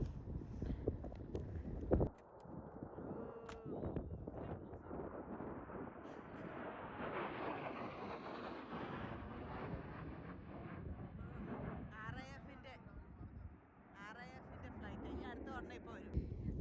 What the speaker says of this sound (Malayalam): ആർ ഐ എഫിൻ്റെ ഫ്ലൈറ്റ് ഇതുവഴി ട്രെയിനിങ് പർപ്പസിന് വേണ്ടി ഇടയ്ക്ക് ഇതുവഴി പോകും അതിൻ്റെ ശബ്ദം കേൾക്കുന്നത്